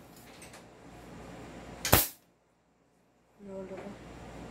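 An airsoft VSR-10 sniper rifle fires a single sharp, loud shot that cuts off abruptly into silence, with quiet room ambience before it and a few faint sounds afterward.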